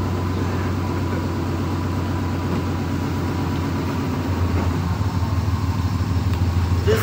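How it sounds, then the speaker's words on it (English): A loud truck engine idles in the background with a steady, low, throbbing rumble that continues throughout, rising slightly toward the end. "This loud truck in the background."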